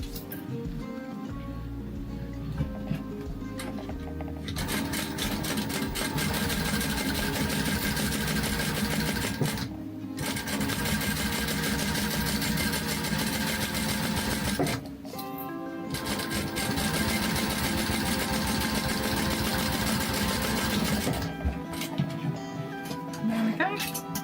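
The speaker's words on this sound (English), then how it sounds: "So I'm just going to top stitch along the top here" A sewing machine top stitches a vinyl panel of a bifold purse in steady mechanical runs lasting several seconds, with short pauses between stretches and a close, even whirring hum.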